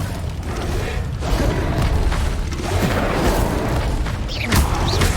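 Incendio fire spell cast in the Hogwarts Legacy video game: booming, whooshing bursts of magical flame recurring over a dense, loud game soundscape, with sharp flares near the end.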